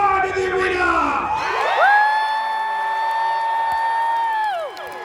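Crowd in a Renaissance faire arena cheering and whooping, a swelling roar with long sustained shouts from many voices, broad and lively before easing off.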